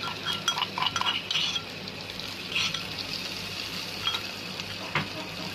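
Ginger garlic paste sizzles in a pan during fish curry cooking, a soft steady frying hiss broken by scraping stirs and light clinks of a spoon against the pan, with no talking.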